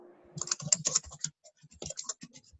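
Rapid, uneven clicking of keys on a computer keyboard, close by, in short bursts with brief pauses between.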